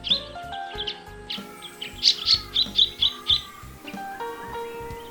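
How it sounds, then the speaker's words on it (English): Little woodswallow, the smallest Australian woodswallow, giving a series of short, sharp chirping calls, several in quick succession near the middle, moderately close over soft background birdsong. "As its name implies, this is the smallest of the Australian wood swallows."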